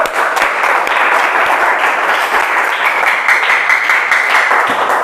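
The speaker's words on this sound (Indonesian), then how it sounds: "tepuk tangan untuk hari ini" A classroom of students gives a round of applause at the end of a lesson on rabbit handling, the clapping steady and sustained for several seconds with faint voices beneath it.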